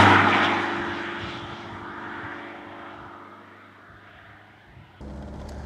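A Saab 900 convertible T16 pulls away on the road with a steady, droning engine note that eases off midway and then swells again near the end.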